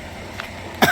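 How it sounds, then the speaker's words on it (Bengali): A single short cough near the end, close by, after a moment of quiet room tone. "আমার আবার ঠান্ডা লেগে কাশি হয় খালি"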